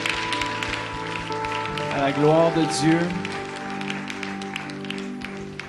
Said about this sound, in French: on peut juste donner une main d'applaudissement pour ce témoignage